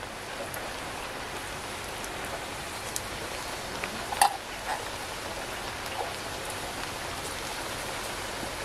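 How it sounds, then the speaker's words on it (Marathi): Steady rainfall, a continuous hiss of drops with a brief louder splash midway, heard alone without voices. "बाहेर पावसाने मस्त सुरुवात केली. दिवसभराचा काय तो पाऊस आता पडतोय परत."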